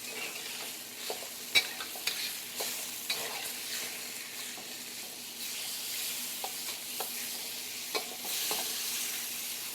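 Beef for a stir fry sizzles steadily in a hot pan while a utensil stirs and scrapes it, with intermittent clicks and knocks over the constant frying hiss.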